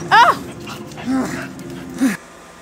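A dog in a television drama scene lets out a few short, high whimpers and yips, three brief cries spaced about a second apart, with speech at a low level.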